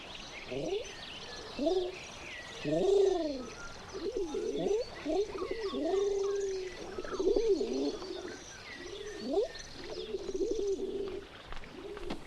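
A dove coos in a repeated rolling call, several phrases over a steady outdoor background, fairly close, with a voice murmuring faintly at times.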